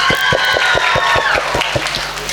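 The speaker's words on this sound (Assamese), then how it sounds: "তালি বজাই দিয়ক" An audience at a live stage show in Nalba claps in a steady, quick rhythm, with bright tonal music or singing running over the beat throughout.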